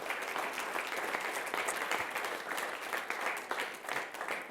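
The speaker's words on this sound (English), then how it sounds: "So a big round of applause for Coach Feckenhire and Cactus High School" An audience at a school governing board meeting applauds Coach Feckenhire and Cactus High School, steady dense clapping from a roomful of people, sustained and fairly close throughout.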